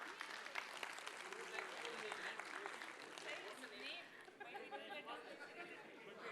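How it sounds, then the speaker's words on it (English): A conference audience at a leadership talk claps in sustained, dense applause, with chatter and murmuring voices mixed in throughout. "Give him a big round of applause."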